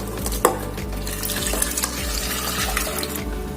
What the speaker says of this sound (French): Maintenant là je vais donc mettre l'eau chaude.